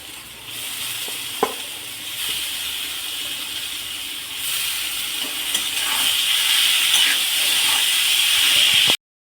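Boiled yam stems stirred with salt in a frying pan: continuous loud hissing sizzle with occasional spatula knocks and scrapes, growing slightly louder toward the end.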